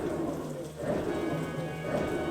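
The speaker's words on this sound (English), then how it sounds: "Ich mag Regen, aber wahrscheinlich hier nicht, ja?" Steady rain pours in a battle scene from the game Banner of the Maid, a dense continuous hiss with low rumbling underneath, loud and unbroken throughout.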